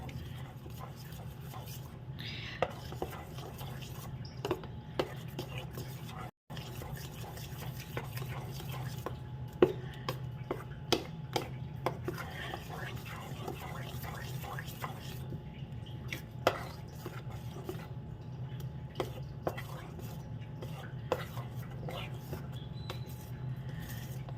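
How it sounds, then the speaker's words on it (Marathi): Two ground idli batters are mixed together by hand in a pot, soft wet stirring and squelching with light taps against the vessel, steady and close over a quiet background hum. "आता आपण दोन्ही जी पिठं वाटून घेतलेली आहे ती छान मिक्स करून घेऊया"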